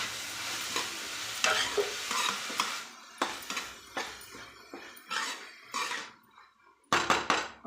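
Green beans with boiled chana dal stir-fried in a pan, with irregular bursts of spatula scraping and tossing, clinks against the pan, and short quiet gaps between strokes.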